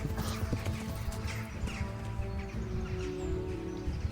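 Galloping horse hooves in the video game Kingdom Come drum along quietly and continuously, mixed with a faint ambient bed and occasional bird chirps.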